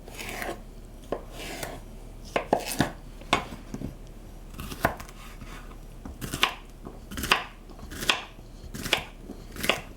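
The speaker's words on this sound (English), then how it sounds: "I'm gonna cut them in half lengthwise" A knife slices mini cucumbers in half on a cutting board, a series of crisp, irregular chops and board taps, close and fairly quiet.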